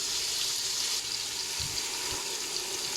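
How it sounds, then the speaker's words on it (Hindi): Water pours steadily into a cooking pot while potato pulao is prepared, a continuous close hissing gush with a couple of soft low thumps. "अभी इसके अंदर थोड़ा जाएगा पानी"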